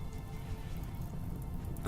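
Rain falls in the video game Rimworld as a steady, even hiss, soft and continuous with no talk over it.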